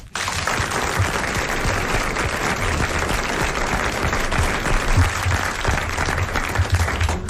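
A 1980 French television studio audience breaks into applause, with dense, even clapping from many hands sustained throughout at a steady level.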